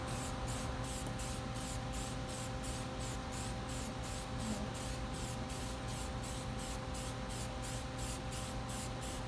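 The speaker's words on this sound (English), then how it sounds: "the reason that I'm painting over this so quickly, not bothering to wait for the silicone to set" A spray can or spray gun coats the hopper lid of a gasifier build in a continuous close hiss, pulsing in quick regular bursts throughout.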